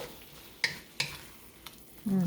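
Chicken with onions and thickened oyster sauce being stirred in a pan after the gas is off, a few distinct utensil scrapes and clicks over a faint sizzle.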